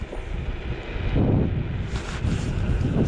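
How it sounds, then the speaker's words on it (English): Strong wind buffets the microphone on a breezy coastline, a continuous rough roar with gusts rising and falling over a few seconds, with no voice over it. "It's very windy today."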